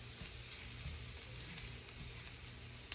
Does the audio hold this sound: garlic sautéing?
yes